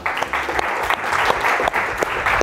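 Steady applause from a studio audience at a French quiz show, dense clapping with a few sharper claps standing out, continuous and fairly loud throughout.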